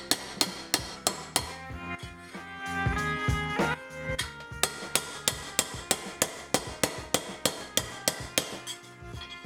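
A hammer strikes a copper bracelet in a steady series of sharp metallic blows, about two to three per second, ringing loudly up close with brief resonant tails between hits.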